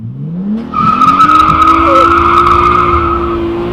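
A Nissan R32 launches on launch control, its tires skidding and squealing in a loud, sustained screech over a rising engine roar that lasts about three seconds.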